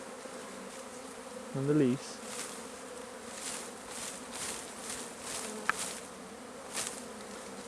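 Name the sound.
swarm of honey bees buzzing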